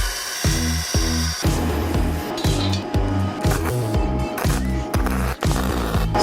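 A power tool cuts a chamfer on the end of a 1/2-inch threaded rod, loud rhythmic grinding bursts repeating about twice a second with metallic ringing between strokes.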